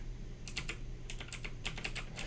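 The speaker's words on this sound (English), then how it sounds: "I know my keyboard is just obnoxiously loud" Loud clacky computer keyboard typing while coding a Snake game in JavaScript, with quick bursts of keystrokes separated by short pauses, close and alone over a low hum.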